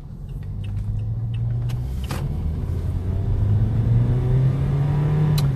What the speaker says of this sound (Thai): โอ้โหพี่เดียวขับรถได้ยิ่งกว่าฟาสต์8อีกเลย เสียงมันแรงมากเลย